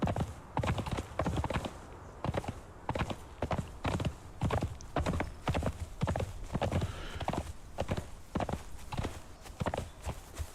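An armored horse's hooves clip-clop in a steady walking rhythm in the game Conan Exiles, close and clear, with no talk over them.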